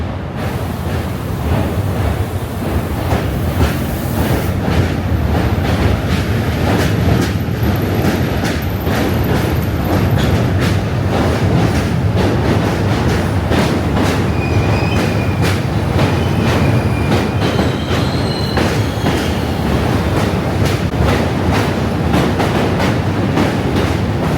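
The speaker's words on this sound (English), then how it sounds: "Here's the subway." A New York City subway train crosses the Manhattan Bridge, a loud continuous rumble with rhythmic clickety-clack of wheels over rail joints and occasional metallic squeals, heard close throughout.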